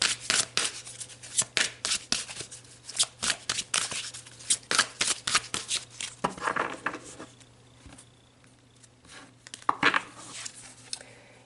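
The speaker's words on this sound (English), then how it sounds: "So let's pull some more cards." Tarot cards shuffled by hand at a reading, a rapid run of crisp riffling slaps and flutters repeating for several seconds, close and clear with no talking.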